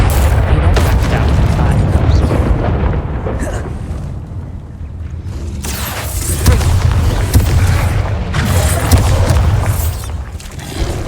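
An Incendio fire spell cast in the wizarding game Hogwarts Legacy bursts with a deep booming whoosh amid a loud, continuous battle rumble of spell impacts, with a voice in the background.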